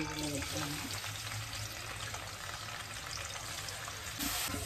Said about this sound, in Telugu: ఇప్పుడు కాకరకాయని ఆయిల్లో ఫ్రై చేసుకుందామండి